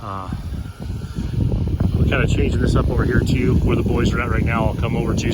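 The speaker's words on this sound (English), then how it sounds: "Sorry about the wind, guys, it's probably horrible." Strong outdoor wind at a tiny house build site roars and buffets the microphone with a constant low rumble, while someone talks over it throughout.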